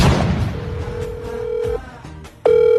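A phone ringing and going unanswered, a sustained tone that holds, drops out briefly, then returns loudly, with a low muffled background.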